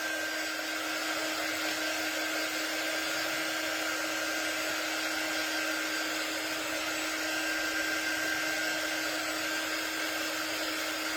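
A hair dryer blows steadily and loudly for the whole stretch, drying a fabric-covered standing bunny craft piece, with no talking over the even whooshing drone.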